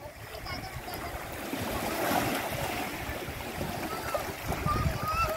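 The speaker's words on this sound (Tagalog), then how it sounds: "Nasa dagat na tayo" Sea waves wash along Dingalan beach where people swim near moored boats, a continuous broad surf rush close by with wind, under light background voices.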